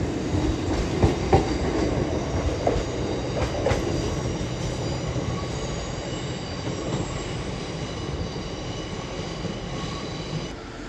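A pair of Class 801 trains rumbles through Leeds station with steady wheel clatter and a faint squeal, loud and sustained, gradually easing over about ten seconds.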